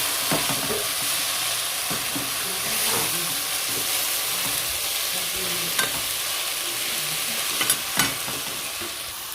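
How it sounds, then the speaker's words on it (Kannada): Chopped hibiscus flowers fry in a hot pan while being stirred, a steady close sizzle broken by a few sharp scrapes and clinks of the spoon, with no voices. "ಹೂವನ್ನು ಹಾಕ್ಕೋತಾ ಇದ್ದಾರೆ ನೋಡಿ ದಾಸವಾಳ ಹೂವನ್ನು ಹಾಕ್ಕೊಂಡಿದ್ದೀವಿ"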